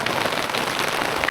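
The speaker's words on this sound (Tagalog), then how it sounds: "Naririnig mo yung patak." Rain patters steadily on a surface during a stormy outing at Mt. Pinatubo, a dense, even hiss of drops heard close by with no voices.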